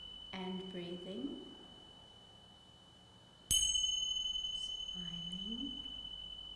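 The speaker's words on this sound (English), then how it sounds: "I'm going to ring the bells 3 times." One clear bell is struck, its sustained ring decaying slowly over several seconds during a guided breathing exercise at a children's museum, with soft speech before and after and a steady faint tone beneath.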